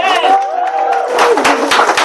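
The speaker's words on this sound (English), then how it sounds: "Give them a round of applause" A crowd applauds and cheers loudly for board members at a 17 Days of Fashion thank-you address. A raised voice carries over the start, then dense clapping builds.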